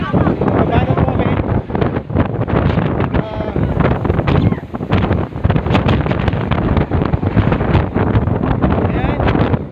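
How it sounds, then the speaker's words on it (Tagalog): Heavy wind at Yangmingshan National Park, Taiwan, buffets the microphone in loud, roaring gusts that rumble continuously, with faint voices mixed underneath. "Napakalakas ng hangin."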